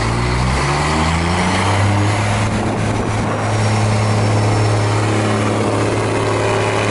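A loud bus engine running without a muffler, a steady harsh idling drone with strong low hum that continues throughout, close and unbroken.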